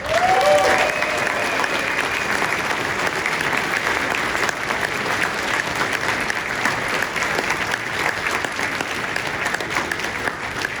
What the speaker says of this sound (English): give a huge round of applause to yourselves for the community that you are